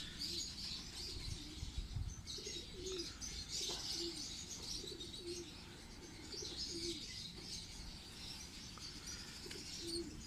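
Ferozpuri pigeons coo softly in repeated low calls over a steady hiss of background noise and scattered chirps, the birds sounding fairly close.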